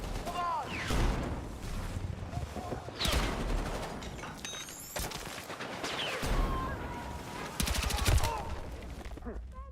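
Bursts of gunfire from Battlefield 6 multiplayer combat, cracking shots scattered through the scene with denser rapid volleys near the end, mixed with game effects and background voices.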